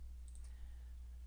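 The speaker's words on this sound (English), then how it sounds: "One way is I can right click and I can select paste right here." A computer mouse gives a few soft, close clicks in quick succession over a low, steady hum, with no voices.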